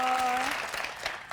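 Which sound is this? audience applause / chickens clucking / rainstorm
audience applause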